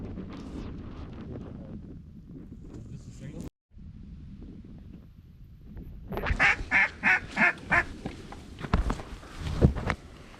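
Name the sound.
ducks quacking during a duck hunt in a blizzard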